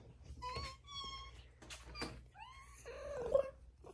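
A cat meows several times up close indoors, drawn-out calls with short pauses between them, ending in a longer, louder, wavering yowl, with light knocking sounds in the background.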